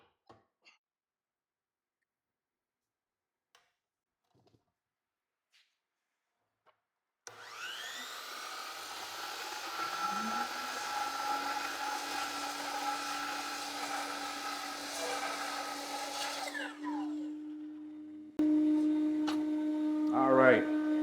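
A DeWalt 735x miter saw spins up and cuts through poplar and plywood, a loud whining motor with a rising blade tone that holds steady through the cut, then winds down before a second burst starts near the end.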